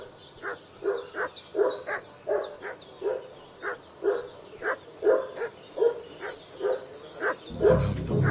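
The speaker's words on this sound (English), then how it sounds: "What's that dog making such a fuss about?" A dog barks repeatedly in Kingdom Come: Deliverance II, a steady run of sharp, evenly spaced woofs at middle distance, fairly loud, ending with a brief rustle.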